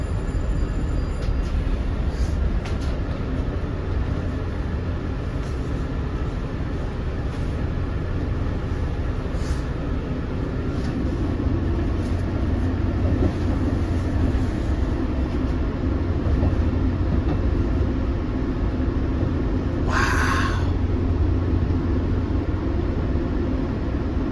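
An eastbound Long Island Rail Road train passes, giving a steady, loud rumble and roar of wheels and cars that lasts the whole stretch, with no talk.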